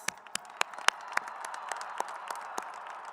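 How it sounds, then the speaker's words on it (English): Scattered, sparse hand claps from a crowd honoring graduates at the 2025 Centennial High School graduation, about a dozen separate claps spread unevenly over a low hall murmur, fairly faint. "give a huge round of applause for all of our graduates"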